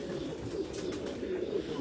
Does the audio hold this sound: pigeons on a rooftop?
yes